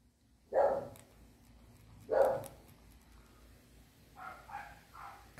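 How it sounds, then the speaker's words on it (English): Dogs barking off to the side, two loud separate barks a second and a half apart, followed by a quicker run of softer yips. "Dogs are barking."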